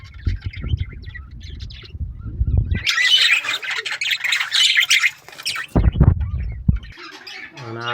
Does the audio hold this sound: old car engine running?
no